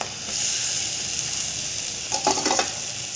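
Ground moong beans fry in a pan with red chilli powder and salt, giving a steady close sizzle that swells briefly with a few louder bursts near the end.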